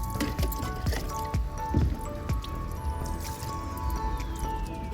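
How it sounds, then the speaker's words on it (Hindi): Water splashing and dripping while henna is rinsed out of hair on an open rooftop, with soft squishy wet sounds and repeated drips close to the microphone, steady throughout. "अभी मैं लगी थी बाल धोने के लिए"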